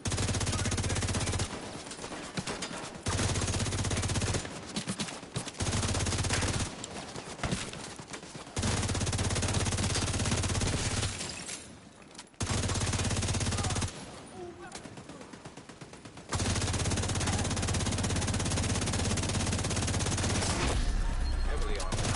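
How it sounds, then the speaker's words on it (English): Enemy gunfire in a PvE shooter game: dense, sustained bursts of automatic fire in long stretches broken by brief pauses, loud and close, with a voice talking at times over the shooting. "Wish they'd stop shooting at me."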